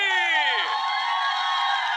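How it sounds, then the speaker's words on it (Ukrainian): A live audience at a national song-contest selection cheers and whoops for a band, a bright crowd roar with rising shouts sustained for two seconds. "шквал, шквал оплесків для вас"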